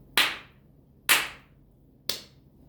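Three sharp hand claps, evenly spaced about a second apart, crisp and close with quick decay, in an otherwise quiet room with no talking.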